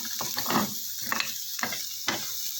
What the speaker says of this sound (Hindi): इनको ज़्यादा देर पकाना नहीं है, बस मिक्स ही करना है प्याज को भी और सब्ज़ मिर्चों को भी